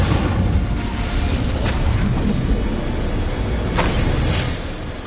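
Incendio fire spell cast in Hogwarts Legacy, a loud burst of fiery, crackling whoosh filling the moment with a few sharp pops, close and dense, fading slightly at the end.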